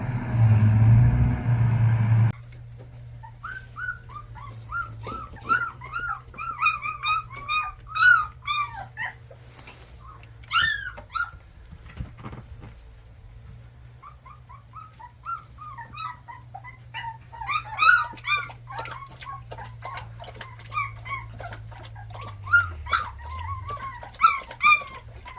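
Several puppies whimper, yip and whine in repeated short, high cries, with occasional low growls, close by over a steady low hum.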